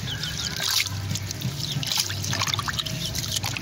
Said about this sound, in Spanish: en agua limpia y enjuagar la lila